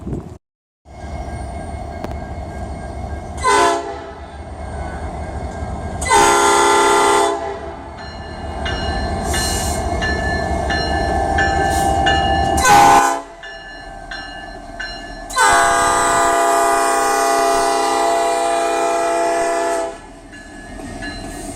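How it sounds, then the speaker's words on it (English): A train rumbles past close by in Decatur, Illinois, with a rhythmic clatter of wheels, its loud horn blaring in several long blasts, some overlapping the steady roar. "the train goes back and forth all the time, and it's like a massive engine"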